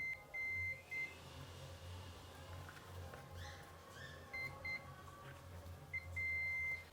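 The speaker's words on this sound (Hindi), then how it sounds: "ये देखिए बीप साउंड आ रहा है।" Several short high-pitched electronic beeps from a multimeter on continuity test, some brief and some held longer, sound over a steady low hum of background noise.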